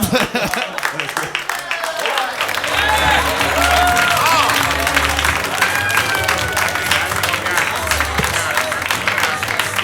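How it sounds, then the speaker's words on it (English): A comedy club audience at a stand-up show breaks into sustained applause and cheering, dense clapping with whoops that carries on loudly throughout, a host's voice faintly under it. "one more big round of applause for Ryan Nesen and Ryan Cullen."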